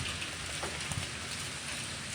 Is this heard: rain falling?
yes